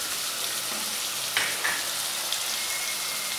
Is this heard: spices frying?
yes